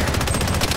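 Rapid automatic gunfire in the shooter Project BloodStrike, a loud, close, rhythmic stream of shots filling the moment without speech.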